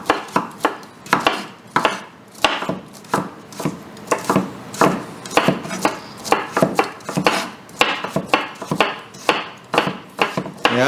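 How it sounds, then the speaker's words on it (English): A knife chopping food into tiny cubes on a board for chimichurri, a steady run of sharp, close knocks in quick rhythm, with no talking. "it into tiny cubes. Right. Okay, let's chop it up."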